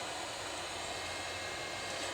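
A hair dryer or heat gun runs steadily while heating the glass edges of an iPad 2 during a touchscreen replacement, giving a continuous broadband airy roar at moderate, even level with no talk.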